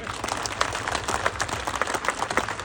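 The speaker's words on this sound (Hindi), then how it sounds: "तो अपने लिए जोरदार तालियां" Seated audience at a patriotic gathering in Gurugram, India, breaking into loud applause, dense clapping throughout at moderate volume with no voices on top.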